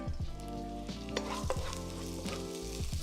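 Ginger sizzles in sesame oil in a hot wok, a steady crackling fry broken by repeated scraping strokes of a stirring utensil against the metal, close and fairly loud.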